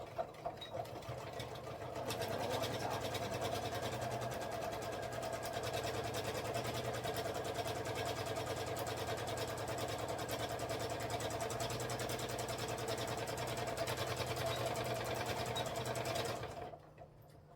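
A sewing machine back stitching a 12 x 14.5 inch laptop sleeve runs in a steady, loud mechanical whirr after a quieter start, holding constant for about fourteen seconds before stopping abruptly.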